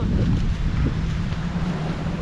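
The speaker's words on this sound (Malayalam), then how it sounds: "ഭയങ്കര കാറ്റ്." Strong wind gusts across the Munnar hills, a loud, steady roar with rumbling buffeting on the microphone and no breaks, no talk.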